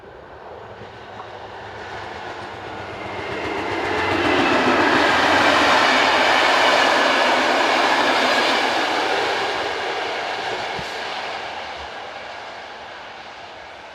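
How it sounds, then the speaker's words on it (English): Passenger train unit 404 arrives on the service from Antwerpen to Landen, a broad rumbling roar that swells as it draws near, peaks mid-pass and eases slightly, with faint wheel clatter and no voices. "Arriving with the 1542 from Antwerpen to Landen is unit number 404."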